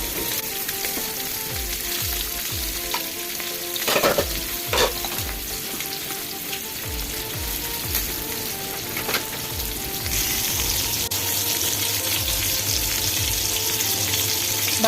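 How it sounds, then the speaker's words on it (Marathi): Mackerel shallow frying in oil in a pan gives a steady, close sizzle. A few clanks and stirring sounds cut in, and the sizzle grows stronger toward the end. "मी एका तव्यामध्ये तेल घेतलेलं आहे, त्याच्यामध्ये हा बांगडा फ्राय करण्यासाठी ठेवायचा"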